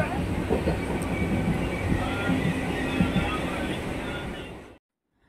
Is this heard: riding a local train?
yes